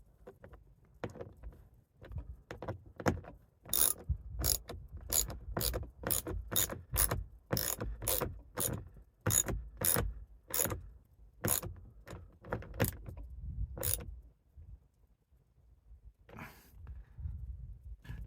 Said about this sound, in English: And now we just gotta bolt that on there.